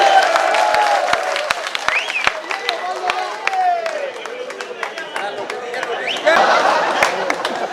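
An audience at a Hindi comedy poetry gathering (hasya kavi sammelan) claps in scattered, sharp bursts of applause over a steady murmur of crowd chatter, fairly close and loud throughout.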